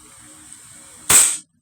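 A Hi-Capa 5.1K airsoft pistol running green gas fires one sharp, loud shot, a bright crack trailing into a short hiss of gas release after a quiet stretch.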